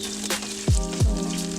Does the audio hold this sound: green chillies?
yes